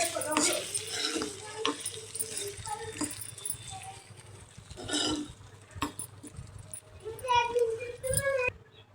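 A utensil stirs vegetables in a pan, with intermittent scraping and soft sizzling, clinks of metal, and voices talking over it, including a child.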